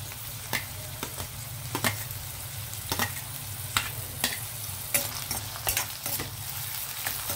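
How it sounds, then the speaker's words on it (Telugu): Onion frying in hot oil, a steady low sizzle broken by sharp repeated clicks and scrapes of stirring, close and moderately loud, with no voices. "ఆయిల్ హీట్ అయ్యాక మనం ఆనియన్ వేద్దామండి డైరెక్ట్"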